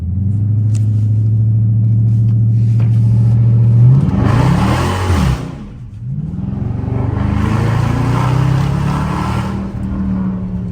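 A 5.7 HEMI Dodge SRT revs hard with a deep, loud rumble, drops briefly, then roars again through a second surge as the car launches, close and alone without speech.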